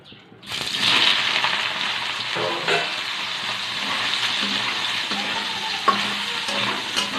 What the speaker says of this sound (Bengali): ওই তেলেই সোয়াবিনটাকে ভেজে নেব।